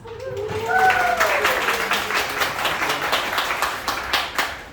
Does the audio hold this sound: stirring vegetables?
no